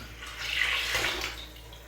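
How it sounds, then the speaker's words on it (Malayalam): Six cups of water poured into a pot of ghee-roasted rice for biryani, a short steady rush of pouring that swells and fades over about two seconds, with no one speaking. "ഇതിലേക്ക് 6 കപ്പ് വെള്ളം ഒഴിച്ചു കൊടുക്കാം"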